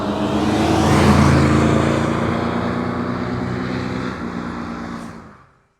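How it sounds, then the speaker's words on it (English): A 1955 Ford Thunderbird arriving, its engine a loud steady rumble that swells as it nears, holds, then fades and cuts off at the end. "Here he comes, 1955 T-Bird."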